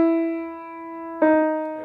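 An ordinary, unprepared piano note rings with a clear sustained tone, then a second struck note enters sharply partway through and keeps ringing; no talking.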